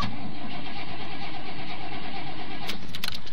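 An old Chevrolet Suburban's engine cranks, catches and runs roughly at close range, a steady rumbling idle filling the clip with a few sharp knocks near the end.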